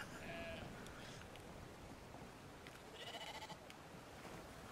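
Sheep bleat a few times over steady outdoor ambience in the video game Brothers: A Tale of Two Sons, with short wavering calls near the start and again around three seconds, fairly close and clear.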